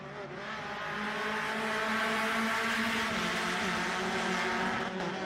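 Mazda MX-5 Cup race cars roar around the Daytona Road Course, a loud, sustained engine drone with a steady pitch as the pack passes, and no voices over it.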